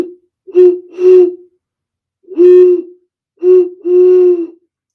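Breathy, owl-like hoots from air blown across a glass bottle partly filled with water, five close, loud tones in two pairs and a single, each with a steady pitch and airy onset.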